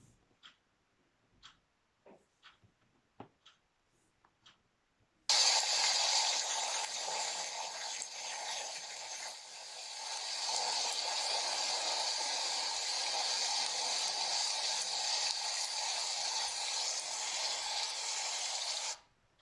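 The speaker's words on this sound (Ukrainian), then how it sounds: "Так, вірно, це звук дощу." A few faint clicks and taps, then a sudden steady rush of rain hisses loudly and evenly for over ten seconds before cutting off.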